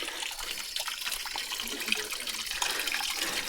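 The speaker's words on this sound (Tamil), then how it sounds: "இதுதான் அந்த ஊற்று தண்ணி." Mountain spring water flowing and splashing at Parvathamalai, a continuous close trickle with small spattering bursts and no voices.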